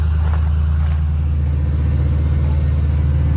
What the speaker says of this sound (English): We got the car nice and plugged in. Let's see if she cranks.